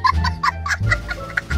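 Chickens cluck in GTA 5, a quick series of short, close clucks and squawks in an uneven rhythm, with low rumbling game sounds underneath.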